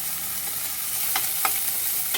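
Garlic and ginger fry in a pan for a mixed vegetable and fried milkfish dish, a steady bright sizzle with a few soft stirring clicks, up close and without talk.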